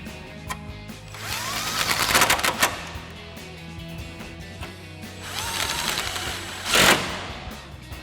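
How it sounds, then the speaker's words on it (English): Power driver running four 10mm screws to mount an LED projector headlight on a 2014-2018 Sierra 1500 truck, with two whirring, ratcheting bursts separated by a pause, close and loud. "Now we'll reinstall the 4 10mm screws to mount our headlight."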